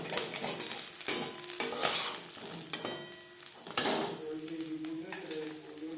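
Crisp-fried puti fish lifted from a hot pan into a bowl: metal utensil scrapes and clinks against the pan, with a steady sizzle of oil beneath throughout.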